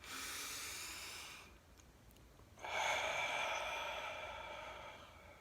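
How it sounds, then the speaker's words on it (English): A slow, deep breath is taken in and then let out, audible as a soft, airy hiss that pauses briefly before a longer exhale, heard alone and quietly. "So just take that deep breath."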